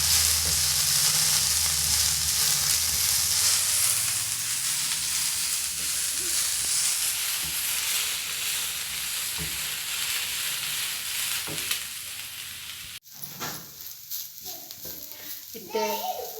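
Onions sizzle and fry steadily in hot oil for chicken biryani, a loud continuous hiss that cuts off sharply near the end, followed by quieter clattering and faint stirring.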